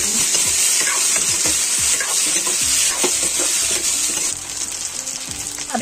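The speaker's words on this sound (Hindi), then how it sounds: "यहाँ पे आलू ऐड कर दिए हैं और इसे अच्छे से चला लेंगे।" Potatoes stirred as they fry in a pan, loud continuous sizzling with repeated scraping strokes of the spoon, heard alone without talk.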